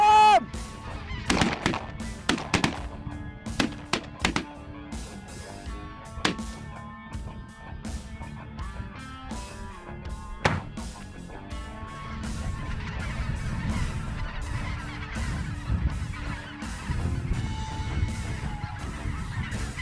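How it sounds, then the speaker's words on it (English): Geese honk loudly and repeatedly, with ducks calling, during a waterfowl hunt on the Saskatchewan and Alberta prairies; sharp close honks come in bursts early on, then a denser, busier chorus of calls builds toward the end. "All the birds are just showing up now"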